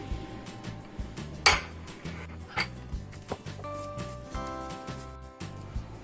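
A spoon works through a spiced mashed potato mixture in a bowl, making irregular soft knocks and clinks against the dish, with one sharper clatter early on, close and fairly quiet, with no voices.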